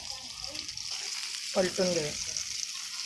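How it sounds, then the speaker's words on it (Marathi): Rani fish (rani machi) frying in a pan, with a steady close sizzle and hiss throughout and a brief burst of louder crackling midway; a voice speaks briefly over it. "आता हे छान प्रकारे दोन्ही बाजूनी फ्राय करूया"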